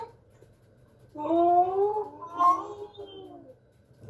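A person's voice imitates a cat's meow, one drawn-out, wavering call lasting a few seconds, close and fairly loud.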